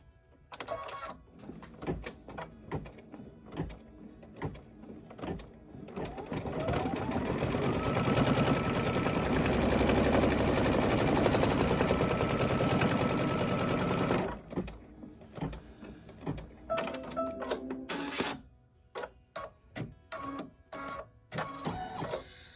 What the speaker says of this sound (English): It says the doorknob and then stitch the siding detail.